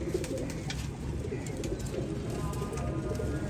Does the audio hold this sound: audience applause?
no